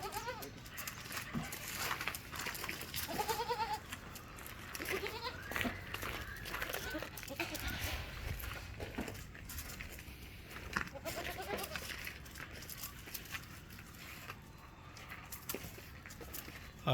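Faint bleats of Malabari cross goat kids come and go among a noisy outdoor livestock-market background with shuffling and murmuring voices.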